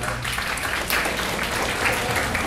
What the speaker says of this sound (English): Hold the applause till the end